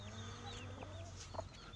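A hen and her single young chick cluck and peep among other chickens, with soft repeated clucks and brief high chick cheeps over a steady low background hum.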